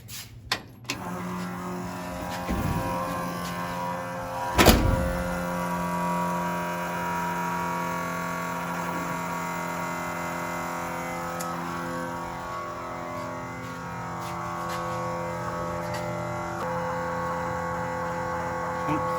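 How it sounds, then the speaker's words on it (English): An electric fuel pump runs on a small block Ford: a steady electric hum and whine with stable tones that drones on throughout after a few clicks at the start, close and fairly loud. "let's crank this electric fuel pump up and check for leaks"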